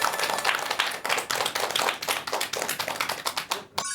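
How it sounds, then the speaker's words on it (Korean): Lecture audience applauding, a brisk burst of many hands clapping close and dense for a few seconds before cutting off abruptly. "여러분 큰 박수 부탁드립니다."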